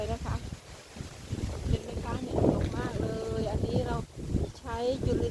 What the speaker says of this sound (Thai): วันนี้ลมแรงมาก